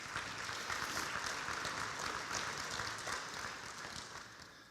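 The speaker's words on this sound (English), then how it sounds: "So give her a round of applause" A ceremony audience applauding at a national high school football hall of fame induction, with fairly faint, dense clapping that tapers off near the end.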